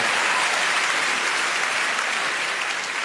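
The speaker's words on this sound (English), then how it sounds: "Round of applause." Applause from a comedy club audience at a live stand-up show, a steady dense round of clapping heard close and loud for the whole stretch, with no voices over it.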